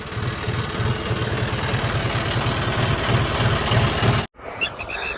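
A tractor engine runs steadily in a wet farm field, making a loud, close, throbbing diesel drone with a rhythmic low pulse that cuts off abruptly near the end.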